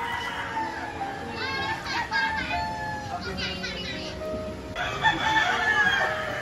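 Roosters crow repeatedly at a cockfighting arena, several drawn-out calls rising over a busy background of crowd chatter and children's voices, moderately distant.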